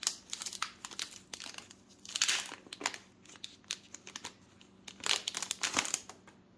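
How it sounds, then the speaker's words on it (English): Sticky paper envelope of Fate and Fortune game cards being pulled open, bursts of crinkling and tearing paper close up, coming in several uneven clusters with quiet gaps between. "get this opened up. So one of those sticky envelopes"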